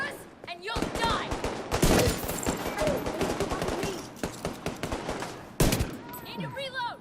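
Rapid bursts of gunfire in Tom Clancy's The Division 2, loud close automatic shots in clusters, with brief pauses and game voices talking in between.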